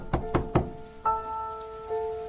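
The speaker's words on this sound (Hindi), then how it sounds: "उधर दरवाजे पर धक्के की आवाज बढ़ती ही जा रही थी।" A door is banged and shoved at night: three quick, heavy thuds land close together, followed by a lingering resonant ring and a softer bump. No voices are heard.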